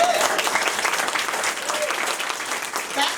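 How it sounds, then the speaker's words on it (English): An audience at a Democratic Party breakfast in Rowan County bursts into close, loud applause that holds steady for about three seconds, with voices mixed in under the clapping. "let's get some applause for that,"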